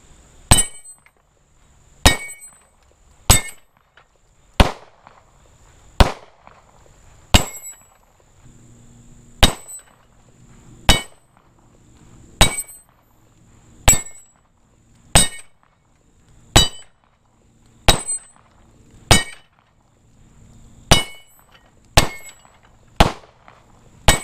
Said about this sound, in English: So we're going to be putting some 9mm carbine rounds on here.